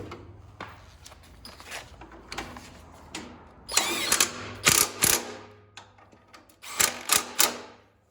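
A hand ratchet tightens bolts on an original International Cub Cadet tractor, with bursts of rapid clicking pawl strokes, some quick and dense, others sparse. The sound is close and fairly quiet.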